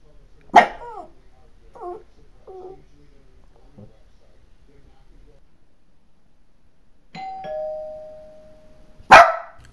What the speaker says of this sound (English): Ooh, doorbell! Somebody's here!